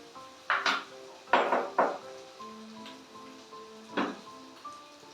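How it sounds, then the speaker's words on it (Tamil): Onions and tomatoes being sautéed in a pan bring a few distinct spatula scrapes and knocks against the pan, set over a faint background. "வெங்காயமும் தக்காளியும் நல்லா வதங்கிடுவோம்"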